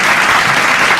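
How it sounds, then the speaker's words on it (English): A school debate audience claps for a student team's score, a dense and loud burst of applause that fills the whole short moment. "You can clap for yourself."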